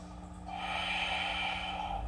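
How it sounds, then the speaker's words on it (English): A long, deep breath is drawn in slowly through the nose during a peaceful yoga flow, a soft airy hiss that builds after a quiet start and holds steady for over a second, close and alone. "One more deep breath here."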